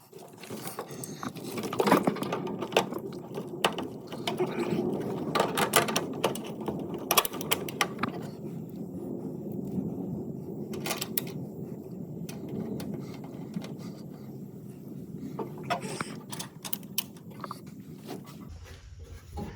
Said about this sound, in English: Now we're putting in some nuts and washers and get this thing where it needs to be